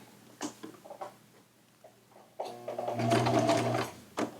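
A sewing machine stitches shirt fabric for a slim fit shirt, a quiet ticking run at first, then a louder steady whirring burst of stitching toward the end.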